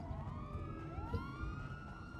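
A police siren in the video game GTA 5 wails with rising and falling tones, moderately loud and on its own.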